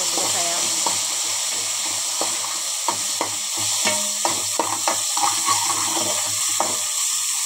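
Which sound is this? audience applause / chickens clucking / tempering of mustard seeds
tempering of mustard seeds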